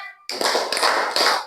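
Steady burst of group hand clapping from a classroom doing a clapping rhythm game, starting after a brief pause and continuing densely and fairly loud to the end, with no distinct pauses between claps.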